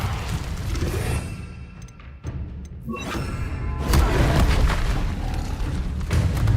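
Spell blasts from Hogwarts Legacy, incendio and confringo among them, land as deep booming thuds and bursts over a rumbling game backdrop. They hit repeatedly and loudly, with brief gaps between them.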